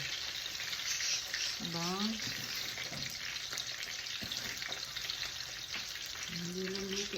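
Pork chop frying in a pan in a home kitchen, crisp steady sizzle and crackle with scattered pops, close and continuous, while a person speaks briefly and a few sliding tones cut through.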